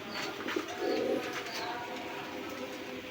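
A pair of racer pigeons coos close by, a soft throaty burst early on followed by a longer rolling coo, set against steady background noise.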